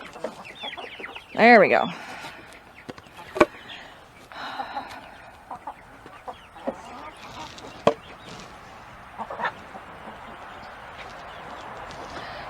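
Chickens being fed by hand, with a loud burst of clucking and squawking near the start followed by scattered softer clucks and rustling, while a person talks briefly.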